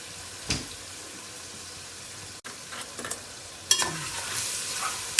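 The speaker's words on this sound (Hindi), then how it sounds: "साथ साथ चम्मच हिलाते जाना है, आलूओं के मसाला लग ना जाए।" A spoon stirs potatoes and eggplant in a pan as a Punjabi aloo baingan cooks, giving soft scraping strokes over a faint, steady sizzle, with a few sharper clinks and scrapes toward the end.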